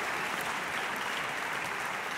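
A concert hall audience at a youth symphony orchestra showcase at Baxter Concert Hall breaks into steady, dense applause that fills the room evenly from start to finish, with no pauses and no voices standing out above the clapping.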